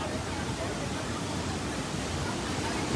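A mountain stream after heavy rain, with water pouring down in a steady, loud, broadband roar that fills the whole clip without pause.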